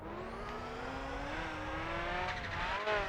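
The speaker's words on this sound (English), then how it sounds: "I love the sound of performance engines and gears." A race car engine in Project Gotham Racing 3 on Xbox 360 revs steadily, its pitch climbing through a gear as the car accelerates, loud and continuous with a faint whir of tires.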